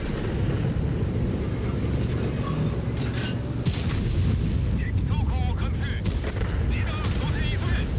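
Tank cannon fire in a tank video game, heavy booms and blasts over a constant loud rumbling engine bed, with a few sharper impacts standing out.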